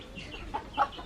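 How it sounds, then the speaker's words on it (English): A chicken gives two short, faint clucks about a quarter second apart, quiet and somewhat distant over low background noise. "We're gonna trap the chicken."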